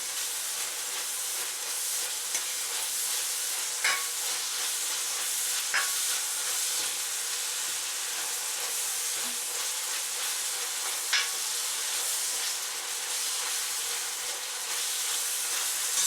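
Pork frying in a pan with onion and garlic gives a steady, close sizzle and hiss that runs throughout, with occasional sharper crackles and light scraping as the mixture is stirred.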